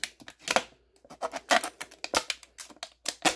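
Sharp crinkling and tearing of thin metal as the top of an aluminum Mountain Dew can is peeled open, a quick run of close, crisp clicks and crackles in an otherwise quiet room.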